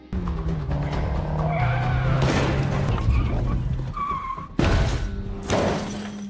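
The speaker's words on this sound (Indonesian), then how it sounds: "Di tengah pengejaran, Lino berhasil membuat mobil Areski terbalik." Car chase in an action film ending with a car overturning: loud tire squeals and skidding, engine roar, then crashing thuds and shattering impacts, with a voice briefly present in the mix.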